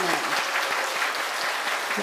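A congregation at a Sunday church service applauds loudly with dense, continuous clapping to welcome guests, with voices mixed in under the noise.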